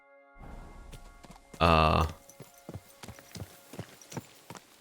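A horse in Kingdom Come: Deliverance II clops along with steady, close hoofbeats, broken by a loud snort or neigh-like blast early on, then walking on at a regular pace.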